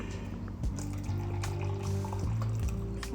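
Lukewarm water pours close by in a steady gurgling stream, with a low tonal hum and a few soft knocks underneath, no talking.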